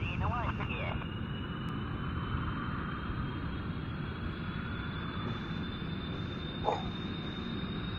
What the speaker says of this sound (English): Full throttle. Get up into the sky as quickly as we can.